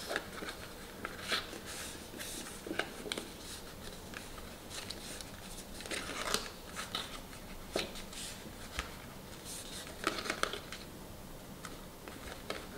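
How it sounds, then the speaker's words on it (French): Paper being creased along folds for a scrapbook album: soft, quiet scrapes and rustles in irregular bursts, with a few sharper rubbing swipes, close by and faint. "je vais marquer tous les plis"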